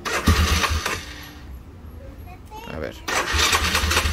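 Yamaha Grizzly 660 4x4 ATV engine, prone to stalling at idle, cranks and fires in bursts, dies down briefly in the middle, then catches again near the end; someone speaks briefly.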